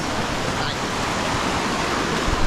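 River water rushes over rocks on a rainforest trail near Medellin, a loud, steady broadband wash of flowing water heard up close without pause.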